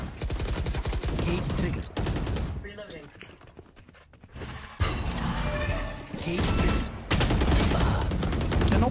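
Rapid automatic gunfire from the tactical shooter game Valorant comes in loud, dense bursts separated by brief pauses, with in-game voice lines and a player talking over the action.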